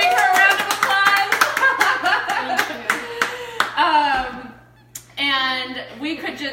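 A small audience gives a round of applause during a live cooking show, with scattered claps mixed with people talking and laughing, a short lull, then more talk.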